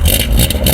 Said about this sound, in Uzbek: Endi ovozga ahamiyat beringlar. Bitta gaz bering.